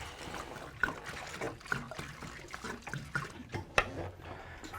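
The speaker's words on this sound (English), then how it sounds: "So next, I'm going to go and I'm going to add in the water." Water trickling and pouring into a bioactive starry night reed frog enclosure, a steady close splashing flow with small drips and gurgles, no talking over it.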